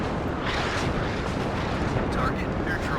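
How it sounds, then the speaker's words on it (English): Continuous roaring barrage of M270 rocket artillery launches and blasts in a video game, dense and loud throughout with no pauses, like a sustained artillery volley. "4 fresh M270s opening up."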